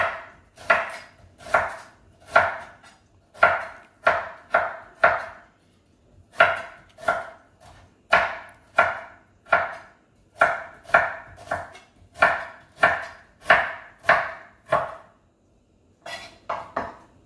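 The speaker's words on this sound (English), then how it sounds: "My ginger is peeled and I am slicing it." A knife slices through peeled ginger on a board in quick, crisp cuts, grouped into rhythmic bursts with short pauses between them, close and clear with no voices.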